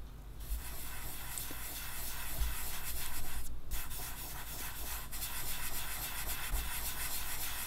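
Conté soft pastel stick rubbed across paper with a gritty texture, producing a continuous rough, hissing scrape at low volume with a few brief pauses, no talk.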